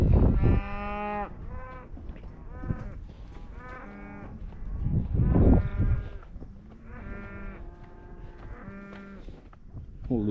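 Cattle being herded toward a gate low repeatedly, with several overlapping moos in close succession, some near and loud, others drawn out, over faint background noise.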